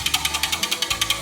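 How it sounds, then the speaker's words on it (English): Beef jerky marinade whisked briskly in a bowl, a fast, even run of about a dozen sharp clicking strokes, close and clear. "Just another quick whisk."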